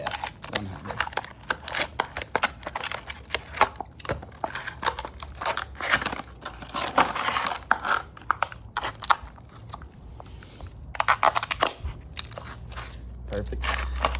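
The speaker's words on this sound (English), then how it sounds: "I'm just gonna grab the tin snips here" Tin snips cut open plastic packaging on a workbench in a series of rapid crunching, crackling snips and rustles, fairly close, with a person talking over much of it.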